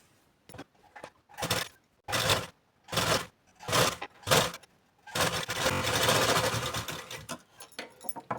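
A sewing machine stitching a blouse sleeve in short close bursts of rapid whirring, separated by pauses, then one longer continuous run of stitching.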